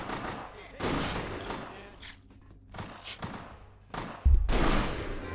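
Gunfire in the Vampire: The Masquerade – Bloodlines video game comes as several bursts of shots and thuds, ending in a heavy boom, mixed with game sounds.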